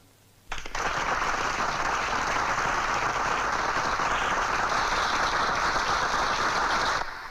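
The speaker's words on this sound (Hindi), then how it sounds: "अब मैं ये हार पहनाऊंगा ना तुम्हें, तो ये सब तालियां बजाएंगे।" A large crowd breaks into sudden applause at a public ceremony, dense continuous clapping that starts abruptly and holds at a steady loud level for several seconds before tapering off.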